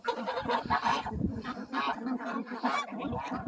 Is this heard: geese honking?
yes